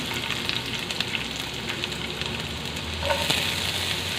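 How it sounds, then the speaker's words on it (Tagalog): Chopped onion and tomato sizzle and fry steadily in a hot pan for tortang talong, a continuous crackling hiss with a slightly louder burst near the end, no voices. "Lutuin na natin yung ating kamatis at saka onion"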